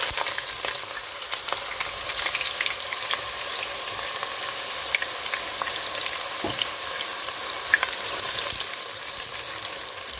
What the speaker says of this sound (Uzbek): Endi piyozni qozonga solib qovurishni boshlaymiz.